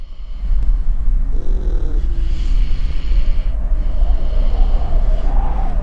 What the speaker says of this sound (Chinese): 甚至听到了打鼾的声音